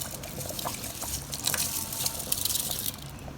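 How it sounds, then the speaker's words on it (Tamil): Soaked seeraga samba rice tipped into a pot of boiling water for chicken biryani gives a busy, hissing splash and bubbling wash of liquid, steady and fairly close, with no talking. "சீரக சம்பா அரிசி இருபது நிமிஷம் ஊற வச்ச அரிசியை இப்போ நான் இதோட நான் சேர்த்துக்கிறேன்"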